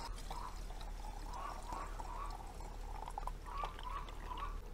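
Sugar syrup for feeding bees is poured into bottles, filling them up to the holes, giving a steady continuous liquid pouring and trickling sound at moderate level throughout.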